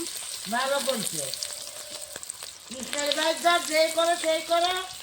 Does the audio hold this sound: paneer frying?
yes